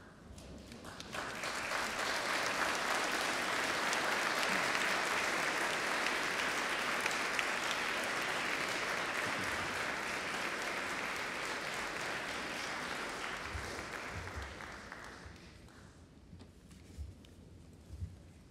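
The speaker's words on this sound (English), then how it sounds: "give a round of applause to" A graduation ceremony audience breaks into applause, a dense, even roar of many hands that builds quickly, holds for several seconds, then tapers off to scattered claps.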